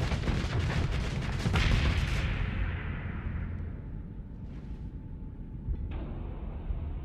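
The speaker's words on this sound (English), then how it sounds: "guy has so many machine guns." Sustained dense gunfire and booming blasts from the Starsector space combat game, loud and continuous at first, then fading into a low rumble with a faint tone and a late sharp burst.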